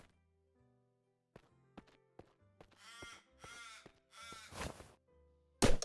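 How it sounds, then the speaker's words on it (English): Birds sing in the cozy forest game Cattails: Wildwood Story, with soft plucked tones and a few dull knocks, then three or four harsh, crow-like caws in a row, ending in a sudden loud burst. "A bird right there."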